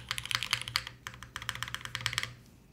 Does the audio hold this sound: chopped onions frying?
no